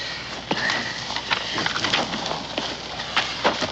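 Horses running off across open ground, a scatter of quick hoofbeats and thuds at middle distance with rustling in the background and no voices.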